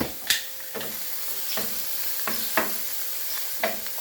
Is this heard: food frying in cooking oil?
yes